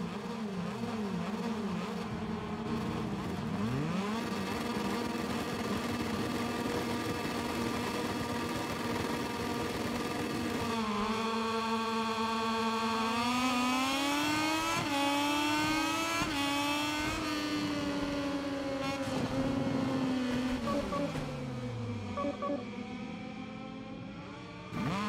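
Motorcycle engines wail and rev at the start of a MotoGP 23 video game race at the Sokol circuit, a dense, continuous buzzing whine from the pack that rises in pitch as the bikes accelerate, loud throughout with no talk.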